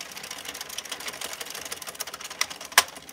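An Addi knitting machine turns with a fast, rattling mechanical clatter, ending in one distinct, sharp click as the row counter advances.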